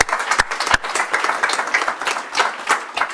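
A crowd at a technical college signing day claps for construction technology signees, a dense run of hand claps with a few sharp louder claps standing out.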